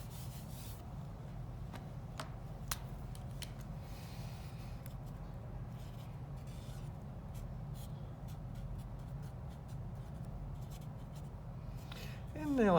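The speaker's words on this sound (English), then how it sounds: "I'm just going to erase that so I have enough room to continue." Writing being erased from a board during a math lesson, a faint, steady rubbing swish that goes on for several seconds with a few tiny taps, close and quiet.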